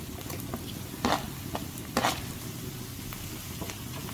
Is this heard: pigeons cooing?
no